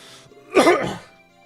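A single short, harsh cough bursts out once, close to the mic, then fades quickly into quiet.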